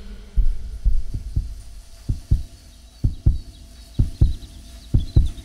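Heartbeat sound effect in a dubbed action film, steady lub-dub pairs of low thumps repeating about once a second, close and prominent over a faint hum with no talk.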